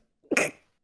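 A single sharp sneeze during a tabletop board game session, a short indrawn breath then one loud explosive burst that fades quickly, close by, with no talk over it.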